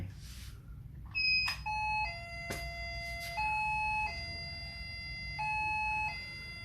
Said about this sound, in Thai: ลองนะครับโทรกลับไปหาตัวแม่นะครับที่อยู่ห้องนู้นนะครับ ว่าเสียง เรียกไปจะดังชัดขนาดไหน